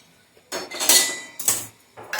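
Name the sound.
pounding roasted fenugreek seeds in a mortar and pestle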